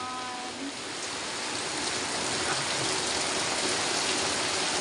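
Steady rain falls throughout, a dense, even hiss of drops hitting surfaces nearby, growing slightly heavier after the first second.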